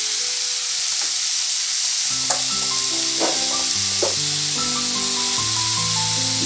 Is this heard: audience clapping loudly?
no